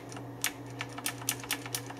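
Keys pressed on a Razer BlackWidow Ultimate 2014 mechanical keyboard, a string of about ten sharp clicks at an uneven typing rhythm over a steady low electrical hum, close and fairly quiet.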